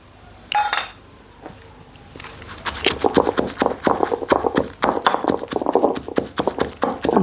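Dry red chillies dropped into a steel grinder jar for chutney, sounding as a single clatter followed by a quick run of close, sharp metallic clinks and taps.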